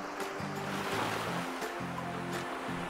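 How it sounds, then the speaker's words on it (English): Surf washing onto the beach at Rameswaram, a steady broadband rush of breaking waves with no one talking, accompanied by a low droning hum throughout. "I just stopped randomly and this is the view of the beach."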